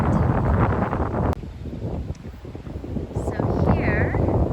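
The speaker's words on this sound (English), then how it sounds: "It's windy, but it's beautiful." Strong, steady wind buffets the microphone outdoors at a Japanese shrine, a loud broadband roar that stays constant across the clip with a brief dip partway through.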